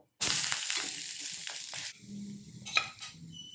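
Moong dal adai, a vegetable omelette, frying on medium flame, a bright sizzle that starts abruptly and fades over a couple of seconds, with a few soft scrapes and a brief clink near the end.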